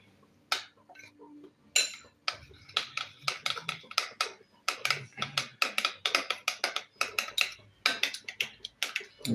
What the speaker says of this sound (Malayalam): ഈ മുട്ട നന്നായിട്ട് മിക്സ് ചെയ്യണം